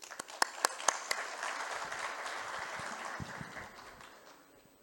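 Audience applause in a hall at a medical congress, opening with a few loud separate claps that swell into dense clapping and then gradually thin and fade.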